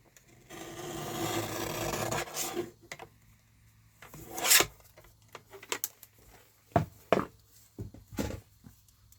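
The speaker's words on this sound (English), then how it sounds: "I do have to use a guillotine because I cannot cut straight. So I just want to cut off the bottom." A paper guillotine trimmer cuts the bottom off a sheet of cardstock, giving a long dry scraping rasp followed by a few short sharp scrapes and clicks, close and alone without talk.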